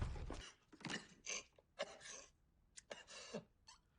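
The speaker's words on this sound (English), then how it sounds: "he's coughing up blood." A man coughing up blood coughs repeatedly in harsh, rasping bursts, close and fairly quiet, with short gaps between fits.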